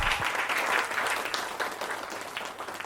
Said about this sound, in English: Give it another round of applause.